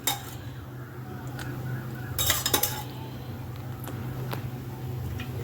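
A metal pot clanks and rattles briefly as it is set down on a stove, a short cluster of clinks over a low steady hum.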